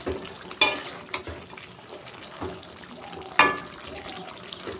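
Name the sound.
stirring pumpkin greens cooking in water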